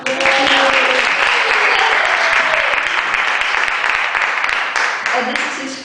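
An audience at a senior recital breaks into loud, sustained applause and cheering, with a voice speaking over the clapping as it tapers slightly toward the end.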